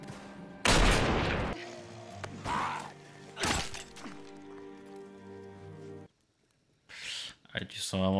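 Gunfire in a Walking Dead TV episode, with several loud separate shots and bursts heard over a steady background score, mixed with people talking.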